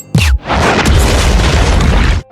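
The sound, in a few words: loud explosion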